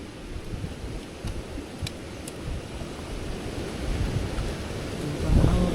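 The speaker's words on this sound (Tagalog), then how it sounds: "Mahangin masyado." Strong wind at sea roars steadily against the microphone while waves wash beneath it, loud and continuous throughout, with a few faint clicks.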